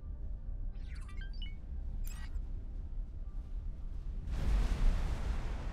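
A ship explosion in the space game X4: Foundations, a broad noisy burst that swells late in the clip after faint electronic beeps and tones, loud and rumbling against a steady low hum.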